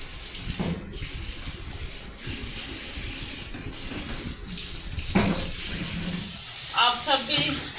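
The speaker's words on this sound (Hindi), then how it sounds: "अब इसको पानी से अच्छे से धो लेती हूँ" Tap water runs steadily into a household flour storage tank as it is washed, giving a continuous splashing hiss with occasional louder sloshes and knocks.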